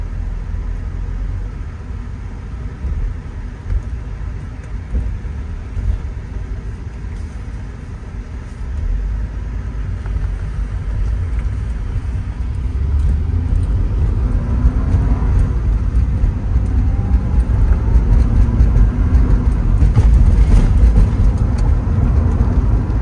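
A 1989 Porsche 944 S2 with a 5-speed gearbox moving in highway traffic, a low engine drone and road rumble heard from inside that swells louder toward the end as speed builds.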